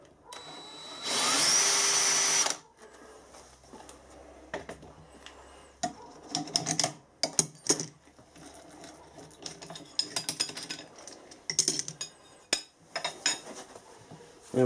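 A 5mm drill spots a hole in a workpiece on a mini mill, a loud steady whine for a couple of seconds, then scattered clatter and handling knocks of tools and metal.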